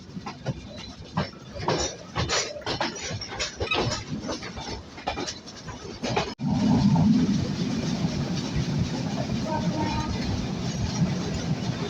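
Dhumketu Express train running at Ibrahimabad railway station in Bangladesh: a rolling rumble with rhythmic clatter that suddenly becomes a louder, denser roar partway through and then holds steady.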